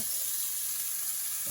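Onions hitting a hot pan for homemade lasagne, a steady bright hissing sizzle that holds at an even level throughout, close and alone without voices.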